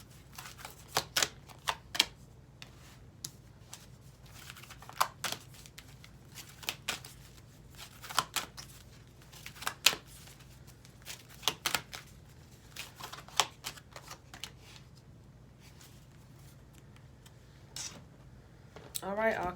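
Tarot cards from the Love Your Inner Goddess deck are shuffled and pulled, making quiet, irregular riffling and crisp snapping taps spread through the stretch, with a voice speaking softly in places.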